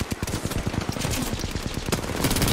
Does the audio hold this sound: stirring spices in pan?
no